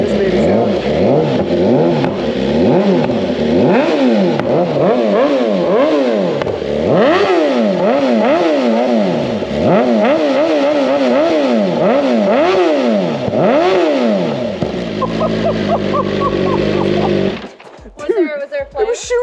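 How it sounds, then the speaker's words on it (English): Carbon-bodied BMW M1000RR superbike engine revved repeatedly after warming up, loud and close, sharp rising and falling rev sweeps in quick succession, ending with popping and a brief voice. "So we'll let it warm up, and then we'll do some revs for you guys."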